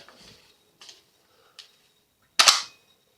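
Gas blowback airsoft gun firing a few separate shots: three light sharp pops spaced under a second apart, then one louder, fuller crack with a short tail, close by and with no talking.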